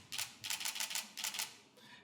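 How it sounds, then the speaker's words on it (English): A Canon 80D camera fires its shutter in a quick burst, a series of crisp, close mechanical clicks in three clustered groups with a fainter final click. "So this is what it sounds like."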